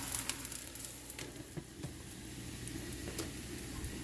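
Celery simmering in a pan of boiling water for chop suey gives a soft, steady bubbling and faint sizzle throughout. An occasional light tap or stir sounds close by, with no talking.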